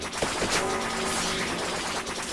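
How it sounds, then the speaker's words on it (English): A slow cannon in a video game fires in a dense, continuous barrage of booming, crackling shots that sound like rapid gunfire. It is loud and sustained through the whole stretch, with no talk over it. "What is this slow cannon?"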